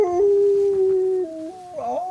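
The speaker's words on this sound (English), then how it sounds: "Any reason you're howling, Mr. Domino?" A dog in a Sea of Thieves game session lets out a long, sustained howl that holds one pitch, steps up, drops, then breaks into a wavering whimpering yip at the end, clear and close with no talking.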